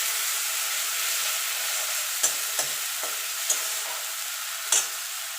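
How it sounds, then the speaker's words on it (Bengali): Ginger garlic paste sizzles with browned onions in a pan, a steady broadband fry with a few sharp scraping clicks of a spatula stirring at intervals, close and moderately loud with no talking. "এবার আদা রসুনের কাঁচা গন্ধটা যাওয়া পর্যন্ত একটুখানি কষিয়ে নেব।"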